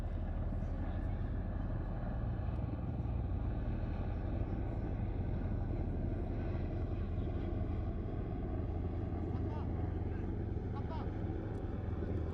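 A C-17 and a KC-135 fly overhead at an air show, their engines making a steady, loud, continuous roar throughout with faint crowd sounds beneath.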